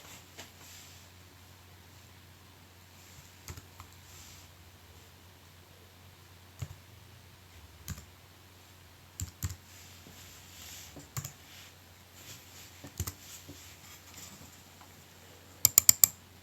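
Keys tapped on a computer keyboard while a patch name is typed into Zoom G1X Four guitar effects software, sparse quiet clicks spread out with a faster burst of keystrokes at the end, no talking.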